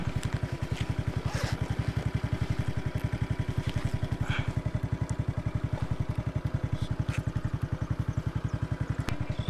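A motorcycle idles steadily at a border checkpoint, its engine pulsing in an even, rapid low thump throughout, close and moderately loud, with faint clatter over the top.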